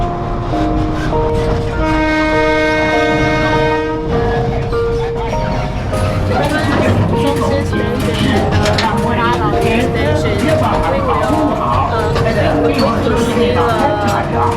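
A train rumbles past at a sugar factory in Taiwan while a long, steady horn blares, then clatter and mechanical noise continue with voices in the background.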